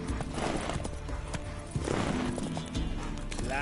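Horse hooves clip-clop at a gallop in The Witcher 3 video game, a steady rapid rhythm close up over game music and ambience, with a brief whinny near the end.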